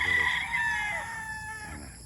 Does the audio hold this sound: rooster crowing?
yes